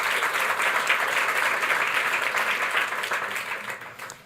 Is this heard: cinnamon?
no